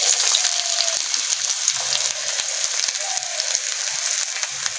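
Chopped onion frying in white oil in a wok, giving a steady bright hiss dotted with small pops and crackles throughout, close by and without talk.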